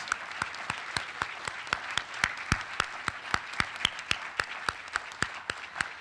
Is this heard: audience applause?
yes